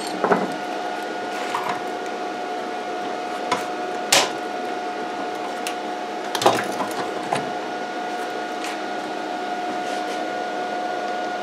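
A Vevor 130 amp MIG inverter welder runs a weld bead with a steady, close, crackling hiss and a faint tonal hum, broken by a few sharp pops.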